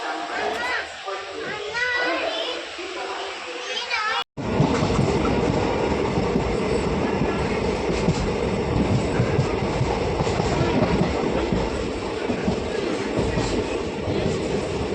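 A train running on rails, heard from inside as a loud, continuous rumbling roar with rhythmic rattling that takes over after a sharp cut, following a quieter stretch with faint voices.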